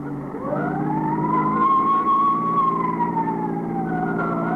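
A loud ambulance siren wails in one long rising and falling sweep over the rumble of an engine nearby.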